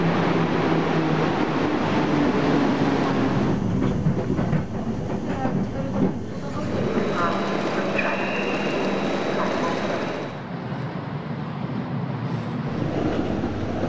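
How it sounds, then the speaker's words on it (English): A passenger train running on rails on the way to Poznań, a continuous loud rumble with rhythmic clatter and shifting hiss, heard from inside the carriage. "I catch my last train to Poznań"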